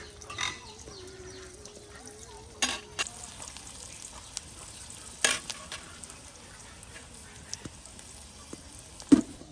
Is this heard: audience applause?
no